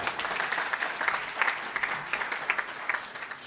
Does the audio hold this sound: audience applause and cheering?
yes